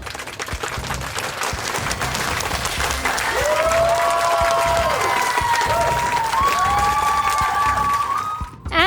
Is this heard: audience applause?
yes